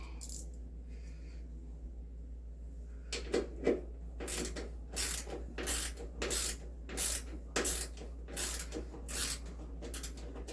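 A ratchet turns in quick clicking strokes to loosen bolts on a GE dryer door. A steady series of close, sharp clicks repeats over several seconds against a low background hum.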